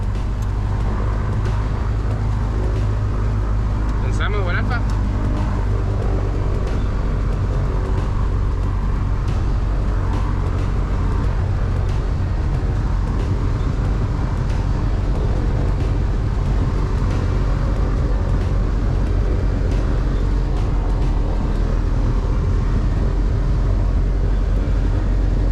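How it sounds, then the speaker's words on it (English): A tow plane engine adds power while taxiing slowly at a glider airfield, a steady loud drone with rumbling low end that holds throughout, close to the microphone and without speech. "So it's time to add a little power and move forward slowly."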